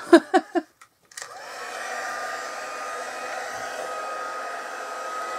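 A heat tool used for card making blows a steady, loud airflow roar that starts after a few brief clicks and knocks, then holds a constant whine to the end with no talk.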